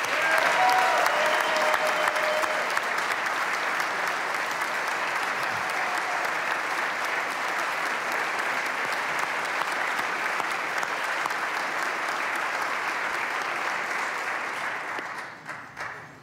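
Sustained applause from a large audience at the 2016 Wisconsin State of the State Address, steady dense clapping filling the hall for about fifteen seconds before tapering off at the end.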